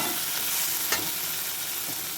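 Close-up sizzling and crackling from a hot pan as vegetables are stirred, steady and fairly loud for a couple of seconds.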